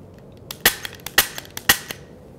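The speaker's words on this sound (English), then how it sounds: "I'll start by shooting from behind cover. We call this covering fire." Gunshots fired from behind cover in firearms training: three sharp, fairly loud cracks spaced about half a second apart, each followed by quicker, smaller snaps, heard nearby without speech.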